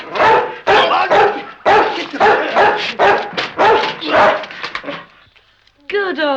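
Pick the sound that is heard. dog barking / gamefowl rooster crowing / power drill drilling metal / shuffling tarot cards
dog barking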